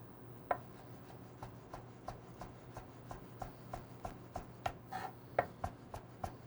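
A knife cutting julienned vegetables into fine brunoise on a board, with quick, evenly spaced chopping taps, about three per second, close and moderately soft, no voices.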